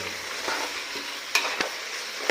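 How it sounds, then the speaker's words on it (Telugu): Strips of chicken frying in hot oil keep up a steady, fairly loud sizzle, with a couple of sharp clacks and scrapes from the stirring spoon and no speech. "ఆయిల్లో మనం తీసుకున్నటువంటి చికెన్ వేసేసుకోవాలా. వేడి వేడి ఆయిల్లో కలుపుకోవాలి."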